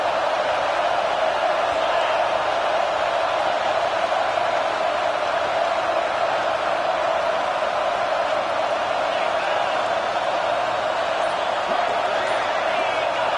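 Steady roar of a stadium crowd in a college football video game, loud and continuous with no break, swelling as the home fans try to disrupt the offense on fourth down.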